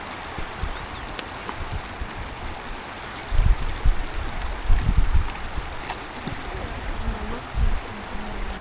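Steady broadband rush of small waterfalls along a trail at Ala Archa, Kyrgyzstan, continuous throughout with a few louder low surges midway.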